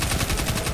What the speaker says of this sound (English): My SMG is gonna tear you up.